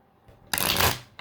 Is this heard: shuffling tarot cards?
yes